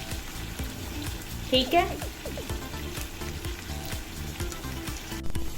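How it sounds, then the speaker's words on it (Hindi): Chicken pieces, 1.5 kg with salt added, sizzle steadily in a pot on high heat for biryani, a continuous crackling fry with stirring clatter while someone speaks briefly. "चिकन अच्छे से फ्राई हो रहा है।"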